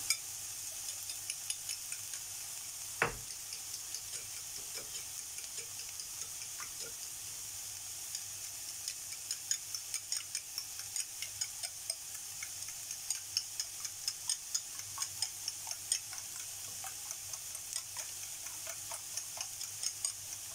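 Eggs frying in a pan, a steady soft sizzle with a sharp clack as they are flipped, then small regular ticking pops through the rest.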